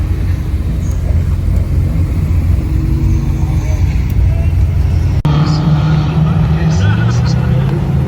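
A supercharged Honda Civic EG race car at Brands Hatch runs through a trackside noise test. The engine gives a loud, steady, dense roar that shifts in tone about halfway through.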